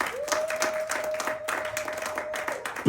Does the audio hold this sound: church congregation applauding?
yes